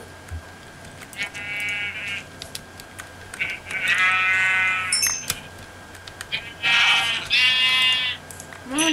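Sheep bleating in the video game Minecraft: several loud, wavering bleats in separate bursts, some overlapping, with faint clicking and game background between them and no talk.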